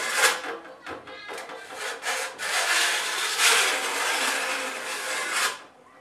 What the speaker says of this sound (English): So I'm gonna take this file along the back side here to take that burr out